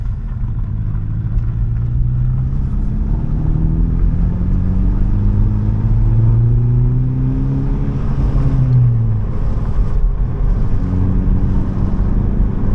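A Nissan Pathfinder engine, recently misfiring, runs loud and close with a deep continuous rumble and rising, falling revs as it is driven.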